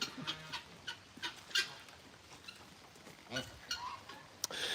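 An old rooster at an animal sanctuary clucks in short, scattered bursts against a busy outdoor background.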